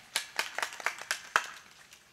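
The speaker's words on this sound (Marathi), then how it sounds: "टाळ्या वाजा तिच्यासाठी" Audience at a comedy kirtan claps for a girl, about nine or ten sharp, fairly faint hand claps in a loose, uneven rhythm, with no talk over them.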